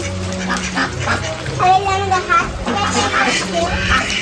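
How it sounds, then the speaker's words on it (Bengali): Ducks quack repeatedly in a noisy cluster close by, with children's voices mixed in among the calls. "এখানে হচ্ছে 11টার মতো হাঁস আছে"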